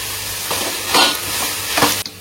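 Green chillies and coriander leaves fry in oil for a donne biryani masala, with a loud sizzle, stirring scrapes at intervals, and a sudden stop at the end.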